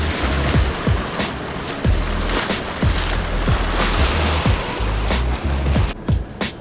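Fast-moving river water rushes past a corner with a slight eddy, a loud, steady broadband roar with rhythmic low splashing pulses throughout, close and continuous with no voices.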